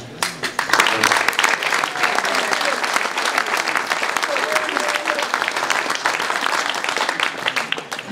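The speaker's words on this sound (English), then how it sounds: "I ask you a nice round of applause for the whole team." Sustained applause from a poker tournament audience at the EPT Prague 2009 final table, dense clapping filling the space steadily for several seconds.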